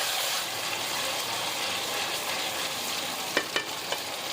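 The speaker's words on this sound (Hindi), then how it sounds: "इसको हल्का सा भून लेंगे लहसुन अदरक को ताकि इसका कच्चापन खत्म हो जाए" Garlic-ginger paste sizzles and fries steadily in hot oil in a home kitchen, with a few sharp scraping stirs of a spoon toward the end.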